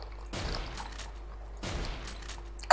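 Two heavy gunshots from the Garry's Mod game, spaced about a second apart, each a sharp loud crack with a short decaying tail over a quiet low hum.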